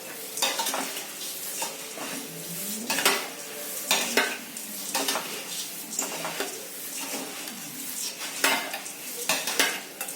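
A spoon stirs and scrapes puffed rice chivda in a pan, with repeated close scraping strokes and light sizzling in an irregular rhythm, and no talking.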